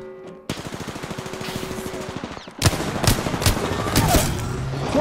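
An enemy in a video game fires on the player in long, rapid bursts of automatic gunfire. The chattering volleys are loud and close, and a heavier barrage with booming impacts follows midway.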